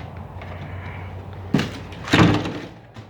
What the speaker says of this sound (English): The door's shut great.